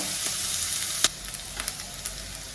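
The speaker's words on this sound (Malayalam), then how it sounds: "ഇനി ഇതൊന്ന് വഴണ്ട് വരട്ടെ." Sliced onions and green chillies sauté in a pan for a Kerala okra stir-fry, a steady close sizzle broken by a few sharp stirring clicks and taps, heard alone without talk.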